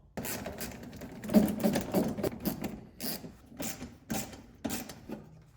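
A ratchet backs out 7mm bolts on the pump of a C5 Corvette, making short bursts of quick metallic clicking separated by brief pauses, close and moderately loud.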